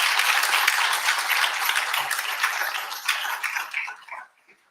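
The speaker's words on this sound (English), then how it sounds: "Can we give them a round of applause again," Audience applause for the panelists at a community roundtable, a loud sustained wash of clapping that thins out and fades to silence near the end.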